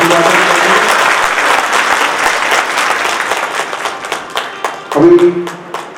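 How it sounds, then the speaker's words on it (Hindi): Audience applause greets a guru at a spiritual gathering in Haridwar, a dense burst of clapping that thins toward the end, with a voice briefly cutting in near the close. "तो सब लोग एक बार ताली बजा के गुरु जी का अभिवादन करें।"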